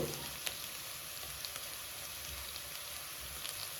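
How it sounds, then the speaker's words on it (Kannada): Onions frying in a pan until brown give a steady, dense sizzle and crackle with a few sharper pops, close and even throughout, with no voices. "ಈರುಳ್ಳಿ ಈ ಥರ ಬ್ರೌನ್ ಕಲರ್ ಬರಬೇಕು ಅಂಥವರೆಗೂ ಚೆನ್ನಾಗಿ ಫ್ರೈ ಮಾಡಿಕೊಂಡು"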